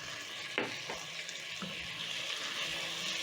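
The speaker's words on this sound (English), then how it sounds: "Stir in the tomatoes." Fresh diced tomatoes are stirred into a pot for one-pot rice and beans, giving a steady soft sizzle with a few wet scrapes and clicks of the spoon and no talking.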